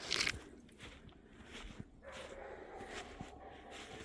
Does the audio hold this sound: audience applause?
no